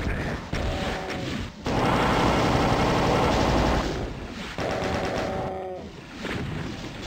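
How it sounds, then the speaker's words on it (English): Rocket launcher fire in The Ultimate Doom, with loud blasts and explosions in bursts separated by brief gaps, dense and harsh over steady game background noise. "Time for rocket launcher again."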